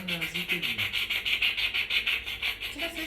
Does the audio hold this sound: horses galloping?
no